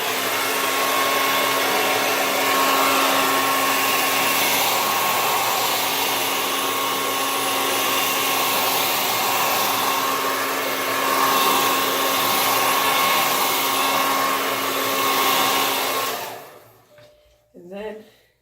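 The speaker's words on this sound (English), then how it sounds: "And blow dry it." A hair dryer blows steadily and loudly on a freshly dyed Saiki K cosplay wig, a constant whooshing drone that runs for about sixteen seconds before cutting off abruptly into near silence.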